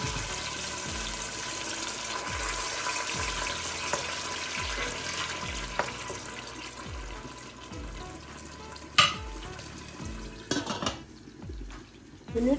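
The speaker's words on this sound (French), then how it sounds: "Dans la casserole, je vais mettre la tomate et la tomate pâte et frire." Tomato and tomato paste fry in a saucepan with a steady, continuous sizzle for several seconds, joined near the end by a few sharp clinks and scrapes of utensils.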